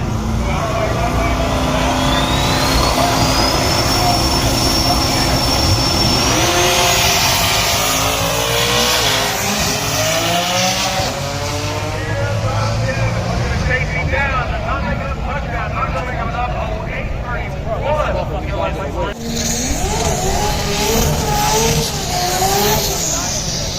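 A Chevelle and an LS-swapped Honda S2K launch in a street drag race, engines roaring loudly as they accelerate away with tire squeal, then fading into crowd noise as spectators talk throughout.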